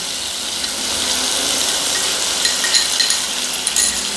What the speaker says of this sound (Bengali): ভালোভাবে পেঁয়াজটা ভাজতে থাকবো যতক্ষণ না পেঁয়াজটা কালারটা একটু চেঞ্জ হয়।